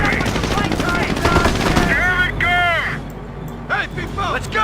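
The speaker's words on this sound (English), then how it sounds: "And there goes the mortars." Mortar blasts and machine-gun fire crackle in a Company of Heroes battle in Normandy at Cherbourg, loud rattling bursts mixed with in-game shouted voices.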